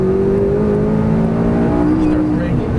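McLaren 570S engine pulling hard on a race track at Exotics Racing in Fontana, California, a loud steady roar with a rising tone, close and continuous, with voices talking over it.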